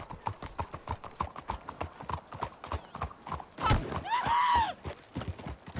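Horse hooves clip-clop at a steady walking rhythm in Red Dead Redemption 2, close and distinct, with a horse's neigh or snort rising over the hoofbeats partway through.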